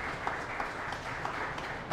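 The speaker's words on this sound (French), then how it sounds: "Un gros applaudissement pour Franklin Charles-Dieu" Applause from an audience at a citizen innovation and leadership awards ceremony for Franklin Charles-Dieu, a steady, moderately loud wash of clapping with a few sharper claps standing out, heard alone.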